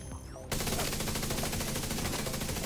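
Sustained rapid turret fire in the shooter game The Division 2, a dense continuous burst that starts abruptly after a brief quieter moment and holds loud and close to the end, with no talk.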